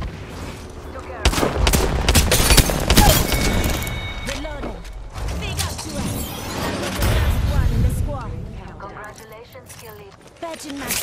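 Gunfire in an Apex Legends match, with auto shotgun blasts and other weapons cracking in clustered bursts, loud and close, amid game effects and frequent talk.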